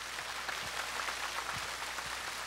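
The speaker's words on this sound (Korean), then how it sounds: "다음 분 박수 보내주십시오." A crowd at an outdoor televised national singing contest in Sacheon, South Korea, claps and applauds, a steady dense patter of many hands, moderately loud and slightly distant, with little talk.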